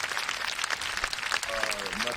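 Canned applause effect played over a Zoom improv show, a crowd-clapping wash heard briefly while someone talks over it.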